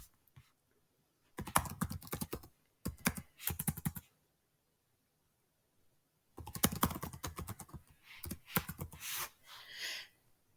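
Fast bursts of computer keyboard typing, two clusters of dense clicking separated by a quiet gap, close and clear with no voices.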